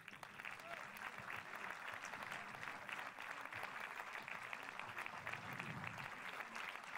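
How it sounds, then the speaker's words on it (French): Audience at the closing ceremony of the Saint-Jean-de-Luz International Film Festival applauding in a theater hall, a dense, steady wash of clapping held for several seconds, fairly distant and soft. "Allez, vos applaudissements, le public"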